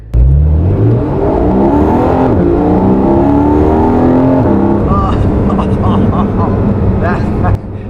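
Porsche 718 Boxster GTS engine revving loudly and continuously, with rising and falling harmonic sweeps of rpm throughout before cutting off near the end.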